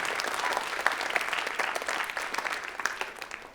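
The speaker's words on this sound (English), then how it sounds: "Give them a round of applause." Audience applause for event organizers at a school writers' week gathering, a crowd of hands clapping briskly and unevenly nearby, sustained throughout before tapering off slightly at the end.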